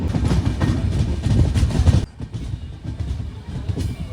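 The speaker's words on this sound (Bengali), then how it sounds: "এই হচ্ছে আমাদের ট্রেনের বর্তমান স্পিড তিরানব্বই বিরানব্বই এরকমভাবেই চলছে" The Tamralipta Express runs at around 92–93 km/h after leaving Digha station, a loud, close rumbling roar with rhythmic wheel clatter that drops sharply in level halfway through, then continues more quietly.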